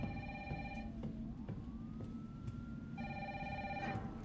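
A telephone rings inside Resident Evil 3 Remake, two bursts of electronic trilling bells separated by a pause, over a steady low game-ambience rumble, with a faint rising whine passing between the rings.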